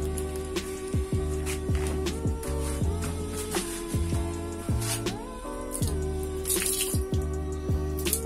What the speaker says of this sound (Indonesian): Kita tes pakai air, disiram nanti digosok pakai kanebo